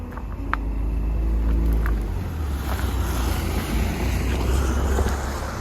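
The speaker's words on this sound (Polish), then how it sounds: "Tam jeżdżą auta." Cars driving past on a road in Fethiye, heard as a steady broadband traffic rumble with wind buffeting the microphone, constant and fairly loud for the whole stretch.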